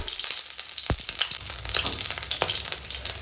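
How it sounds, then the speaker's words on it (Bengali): Whole garam masala spices crackle in hot oil just after fried potatoes come out of the pan: a short, steady close sizzle with a few small pops and stirring scrapes. "আর গোটা গরম মশলা ফোড়নে দিয়ে দিলাম"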